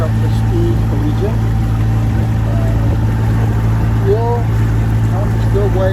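Boat motoring at about five knots with a 25-gallon fuel tank, a loud constant low engine drone throughout, with faint chirping over it.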